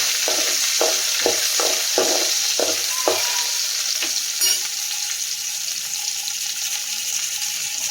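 Urad dal and green chillies sizzle steadily in hot oil in a pan while a spoon stirs them with a run of rhythmic scraping strokes early on, then the frying hiss continues on its own.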